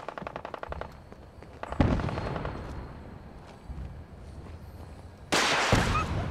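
Rockets and gunfire roar in Fallout 4 combat at Fort Hagen: a fast rattling burst up front, then a sharp blast and a dense, sustained barrage of explosions swelling loud near the end, with no talking.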